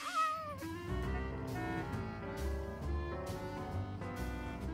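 A cartoon cat meows and yowls at the start, a brief animated cry that quickly gives way to a dense, loud musical score.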